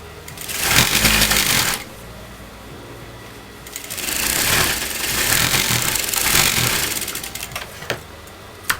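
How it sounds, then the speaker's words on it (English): A sewing machine stitches double-folded fabric for a kurta sleeve, running in a short burst of about a second, then in a longer steady run of several seconds. The close mechanical whir and needle clatter come with no talk. "I'm going to put a big stitch in the machine"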